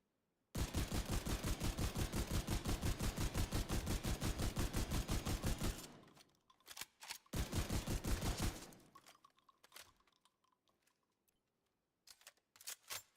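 A suppressed Mark 46 light machine gun fires in a video game, a long, rapid, evenly spaced burst followed by a shorter burst, then scattered clicks and handling noises of a reload.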